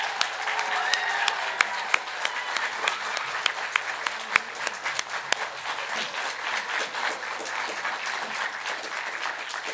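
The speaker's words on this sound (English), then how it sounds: "Let's give them all one final really loud round of applause" A hall full of people at the Silver Awards 2023 ceremony breaks into a sustained round of applause, dense clapping lasting nearly ten seconds with a few sharper claps standing out, heard from a moderate distance.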